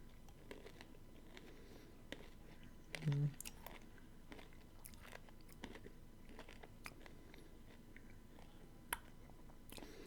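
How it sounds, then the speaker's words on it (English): Chewing a holiday Nerds Rope candy: soft, close, intermittent sticky chews and small crunches of candy pieces, faint and spread irregularly over a quiet background. "consuming a treat I do like in any form is, you know, delicious because I do like NeRdS"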